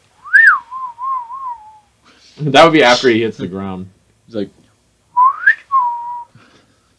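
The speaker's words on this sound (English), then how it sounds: "What was that whistle thing?" Cartoonish whistle sound effects from the video game Sonic Unleashed, a rising then falling tone followed by short wavering notes, then a second similar whistle later, separated by a man's speech in between.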